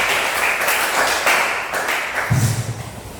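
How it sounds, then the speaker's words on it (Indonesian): Classroom students clapping hands together, a dense, fairly loud patter of claps filling the room for a few seconds, with a low thump near the end. "Oke, tepuk tangan."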